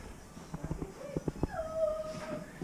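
A puppy whimpers in a few short high cries, then lets out a rising, drawn-out howl, close by and fairly quiet after a bath and haircut.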